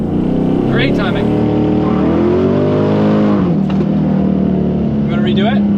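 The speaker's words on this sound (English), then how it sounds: "you slipped the clutch, but then you burned the tires a little bit" Car launching hard off the line in a drag race with a slipped clutch and briefly spinning tires: a loud, continuous engine roar rising in pitch and then dropping, with people talking over it.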